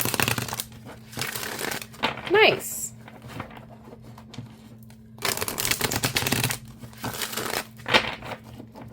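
Bursts of papery riffling and crisp flicks of tarot cards being shuffled come in two separate runs, with a short spoken word in between and quiet room noise.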